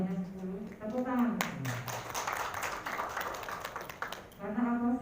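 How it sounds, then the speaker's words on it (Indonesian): Audience applause at a librarian competition announcement, a burst of dense clapping lasting several seconds between stretches of a man's speech. "Tepuk tangan."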